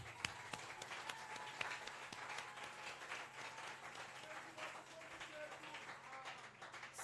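A church congregation at a Sunday service acclaims with soft, continuous clapping and scattered taps, fairly faint and distant, with murmuring voices underneath.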